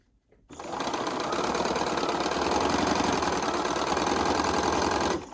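A sewing machine runs steadily for about five seconds, chain piecing small quilt pieces one after another in a continuous whirring stream, close and loud, starting abruptly after a brief silence and stopping at the end.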